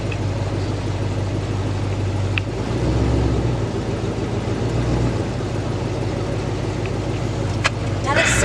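A truck with a loud modified exhaust gives off a deep, steady engine drone close by, with people talking over it.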